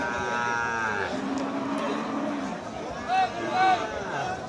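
Bulls low at a rural cattle market, with a few short moos, one near the start and two brief ones toward the end, set under steady nearby talk and background bustle.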